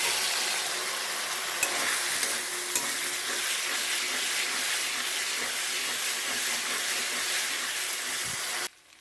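Potatoes frying in spiced oil in a home kitchen pan give a steady, loud, hissing sizzle that runs unbroken for the whole stretch and cuts off abruptly at the end, with no voices.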